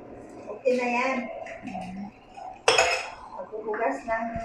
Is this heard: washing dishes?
yes